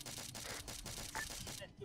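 Rapid bursts of automatic gunfire from an ARMA 3 firefight, loud and continuous for a couple of seconds and cutting off at the end.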